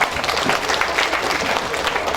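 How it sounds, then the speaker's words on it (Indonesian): A crowd applauds at an outdoor campaign rally for gubernatorial candidates in Kupang, with steady, dense clapping throughout and a few voices mixed in. "Tepuk tangan dulu buat semua dulu."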